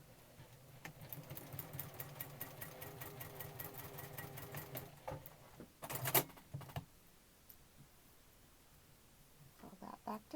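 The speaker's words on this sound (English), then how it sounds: "you're going to sew from corner to corner." A sewing machine stitches a small quilt square corner to corner in a fast, even rhythmic whir for several seconds, then stops, followed by a sharp clack and quiet handling noises.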